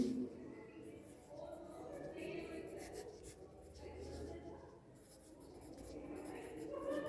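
Pen scratching steadily across paper while copying Sanskrit sentences in a classroom lesson: soft, continuous rubbing strokes, quiet and close, with faint voices in the background.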